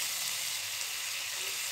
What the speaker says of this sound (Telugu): ఇప్పుడు మనం దీనిలో టమాటాలు కూడా వేసుకుందాం.